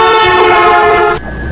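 A loud, sustained horn blares from a passing vehicle on a road, its pitch dropping abruptly near the end as it goes by, with a rumbling rolling noise underneath.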